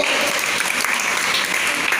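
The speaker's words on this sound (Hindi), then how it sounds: "ताली बजाइए इन बच्चों के लिए" Steady crowd applause at a children's Vacation Bible School gathering in Dharavi, Bombay, with many hands clapping densely and continuously at close range for about two seconds, with no speech over it.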